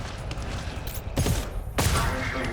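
Bursts of gunfire in the co-op shooter GTFO, modded, arrive in two loud, sharp volleys about half a second apart after a quieter stretch, with a man muttering faintly in between.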